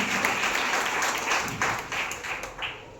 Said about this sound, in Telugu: అందరూ గట్టిగా చప్పట్లు కొట్టి ప్రభువుని స్తుతిద్దాం.